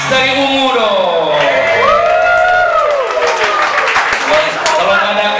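Concert crowd at a live show in Makassar applauds and cheers for a band member, a loud, steady wash of clapping and whoops under a voice talking over a PA.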